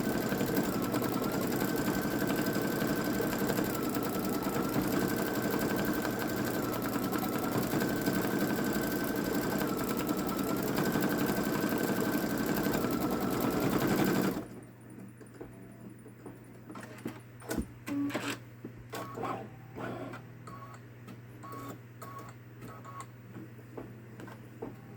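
A Babylock Solaris embroidery machine stitches a patriotic gnome design with a steady, fast mechanical whir and rhythmic needle chatter for about fourteen seconds, then stops abruptly, leaving quiet clicks and handling noises.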